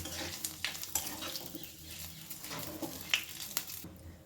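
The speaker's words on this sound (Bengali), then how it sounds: "ফোড়নটাকে ভালো করে একটু নাড়াচাড়া করে নেব" Bay leaf and whole cumin are stirred in hot frying oil for a tempering, heard as a quiet sizzle with light scraping and occasional clinks of a spoon on the pan, close, and with no one speaking.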